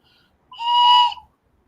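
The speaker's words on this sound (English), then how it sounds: "And I got this train whistle." A small hand-held train whistle blown once, a single clear steady tone of about half a second, close and alone with no talk around it.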